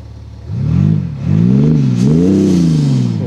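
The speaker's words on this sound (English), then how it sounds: "That's the sound of the X540D." A BMW X5 40d diesel engine revs in sport mode, two deep throaty blips rising and falling, then a longer climbing rev held before easing off, loud and close with no talk.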